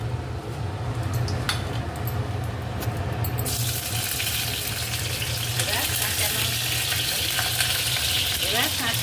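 Oil heats in a wok with a steady hiss and crackle, and the sizzle jumps louder partway through as something is added, continuing close and constant.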